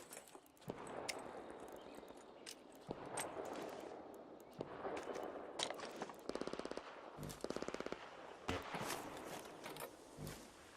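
Arc Raiders video game gunfire: sharp, distant single shots and short rapid automatic bursts ring out against quiet ambient noise, with footsteps and mechanical clicks between.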